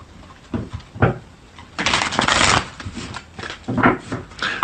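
Tarot cards being shuffled and riffled by hand, with several bursts of papery shuffling, one longer and louder near the middle, close and fairly loud with no speech.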